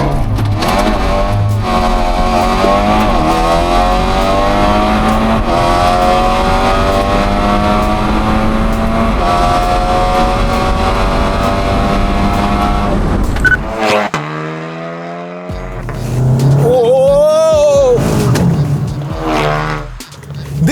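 A Skoda Octavia VRS with Haldex all-wheel drive launches on a quarter-mile run, its engine roaring loudly through climbing gears, then a sharp shift and a brief squeal before it revs up again, heard up close.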